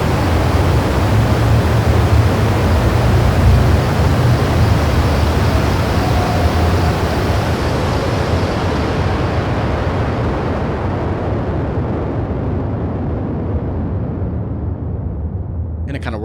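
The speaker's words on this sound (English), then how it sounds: "We're about to see this rocket take off." A synthesized rocket launch effect: a loud, dense roar of broadband noise, steady and rumbling, that slowly loses its brightness as it fades away over about sixteen seconds.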